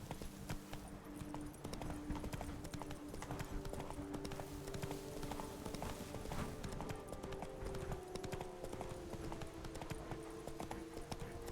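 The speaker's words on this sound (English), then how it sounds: "Gallop through arches as well, Roach." A horse gallops in The Witcher 3 video game, with steady rapid hoofbeats running continuously and evenly loud under a droning game soundtrack.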